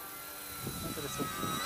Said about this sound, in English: aerobatic plane with floats on, that's for sure